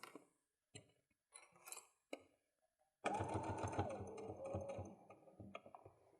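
Sewing machine stitching a seam on a fabric pencil case: a few scattered clicks and handling taps, then a fast, close, rattling run of stitching that carries on to the end.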